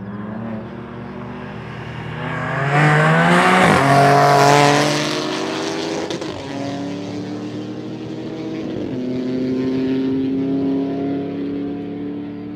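A 5.0-litre V8 Opel Omega and a stage 2 BMW M3 Competition accelerate hard from a rolling start, engines rising in pitch through gears with a loud peak, then receding and revving again.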